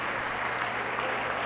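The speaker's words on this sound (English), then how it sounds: "And the team is applauding Shamar Waterman" A basketball team applauds a senior on his final home game at a Saint Peter's Prep versus Oratory Prep NJSIAA tournament game, steady dense clapping filling the gym at an even, sustained level.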